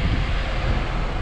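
A Daimler OM936 7.7 litre six-cylinder engine at the back of a Wrightbus StreetDeck runs with a loud, continuous, broad roar, close by and unbroken for a brief moment.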